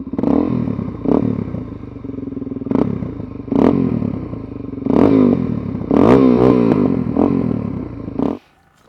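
A 2007 Suzuki DRZ400SM fitted with a Yoshimura competition-series exhaust runs loud and close, its engine blipped in a series of sharp revs over a steady idle before cutting off abruptly at the end.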